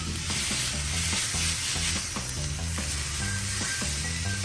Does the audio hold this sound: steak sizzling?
yes